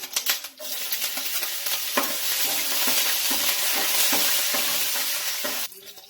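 Green chillies hit hot oil in a pan for poha, giving a loud, steady sizzle and crackle with a few stirring scrapes, close up and without voices.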